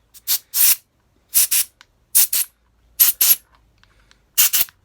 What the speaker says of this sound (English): Just blowing out every single hole I can find.